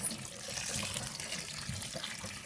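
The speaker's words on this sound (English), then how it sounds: "I'm going to take and stop the cooking process by putting really, really cold water over my pasta noodles" Cold filtered water pours steadily from a tap over cooked pasta noodles in a kitchen sink, a soft, even rushing heard close up with no talk.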